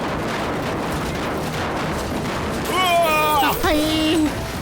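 Cartoon bomb explosions in an attack, with bursts and booms rumbling under ongoing speech, then a cluster of descending whistling tones near the end as the blasts hit.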